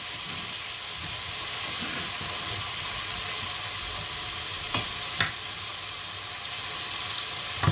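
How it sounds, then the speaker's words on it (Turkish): Leeks sautéing gently in olive oil in a pan, a steady soft sizzle with occasional light clinks of a utensil against the pan. "Yani bunları hafifçe zeytinyağlı, yağlı kavuruyorum."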